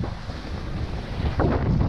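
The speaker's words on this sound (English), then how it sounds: "It's windy." Steady wind roaring across the microphone with low rumbling buffets, swelling stronger toward the end, with faint water noise beneath.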